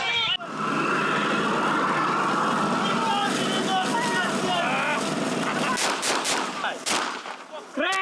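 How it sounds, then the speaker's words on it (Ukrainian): Sustained gunfire crackles with loud blasts and explosions on the Zaporizhzhia front line in Ukraine, sharp bursts growing denser toward the end over a constant rumbling din. "Можемо побачити тут стрілянину, почути також гучні вибухи стрілів"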